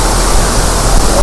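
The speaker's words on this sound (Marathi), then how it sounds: "धबधबा" Savatkada waterfall in Konkan in full flow, a loud, close, continuous roar of rushing water with no break.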